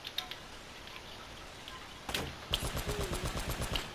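Pistol gunfire in Uncharted: Drake's Fortune, a few scattered shots followed by a fast, evenly spaced burst of about eight sharp cracks over a faint game background.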